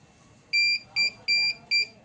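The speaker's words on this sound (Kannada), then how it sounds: "ಇನ್ನು ಕಂಟಿನ್ಯೂಸ್ ಆಗಿ ಬೀಪ್ ಸ್ಟಾರ್ಟ್ ಆದೈತೇನ ನೋಡ್ಬೋದು" A CP Plus network video recorder sounds its disk-error alarm: four sharp high-pitched electronic beeps in quick, slightly uneven succession over a faint background hum.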